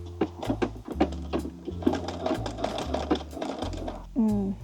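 A vintage sewing machine runs a straight line of stitching in a steady rhythmic chatter of repeated mechanical thumps, close and fairly loud, with a person talking over it.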